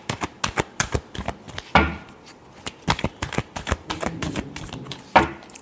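Tarot cards are shuffled by hand in a rapid series of crisp, close riffling snaps and flicks, irregular in rhythm, with no voice.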